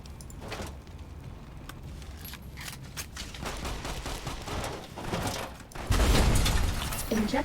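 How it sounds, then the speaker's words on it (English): Missile launcher firing in the video game Fallout New Vegas, with steady gunfire-like bursts and clatter building to a loud, booming blast near the end. "Literally one hit with a missile launcher was all I needed"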